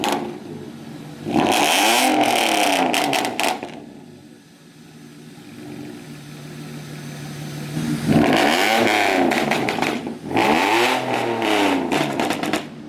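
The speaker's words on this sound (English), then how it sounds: "So he does have full straight pipe from front to back, guys." A Ford Mustang V6 with a full straight-pipe exhaust from front to back, revved hard in repeated bursts. Each loud, raspy blast climbs and falls with a roaring tone, and a lower idle rumble fills the pauses between them.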